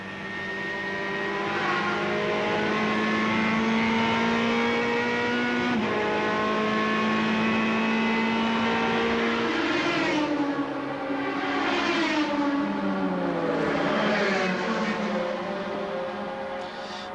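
Porsche and other race cars roar past at the Spa-Francorchamps 24 Hours, loud engine notes sweeping up and down with several pass-bys and gear changes in a continuous, close racing din.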